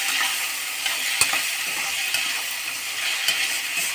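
Tomato curry with salt and turmeric simmers and sizzles in a pan, a soft steady hiss dotted with a few sharp spoon clicks and no speech.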